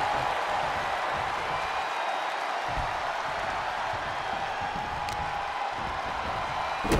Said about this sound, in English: Batista and Cena firing on all cylinders, and the crowd is too